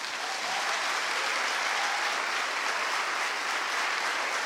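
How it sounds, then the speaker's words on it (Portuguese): A church congregation at a leaders' evening service claps in sustained, dense applause, an even wash of many hands from start to finish with no talking. "Quantos podem dar um aplauso ao Senhor?"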